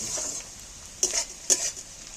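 Onions frying in oil over a tempering of spices, a soft hiss of sizzle with two sharp stirring scrapes of a spoon against the pan.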